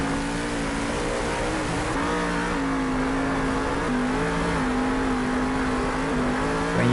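Monster truck engines rev loudly and continuously through a lap of an arena Monster Jam run in Salt Lake City, pitch rising and falling with steady droning power and no talk over it.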